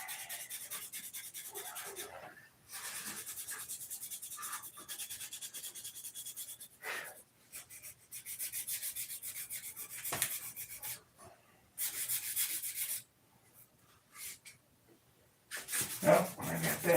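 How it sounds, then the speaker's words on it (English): Sandpaper rubbed by hand over wood in repeated bursts of gritty scraping strokes, separated by short pauses, close and fairly loud with no talk over it. "I need another piece of sandpaper. This is getting loaded up."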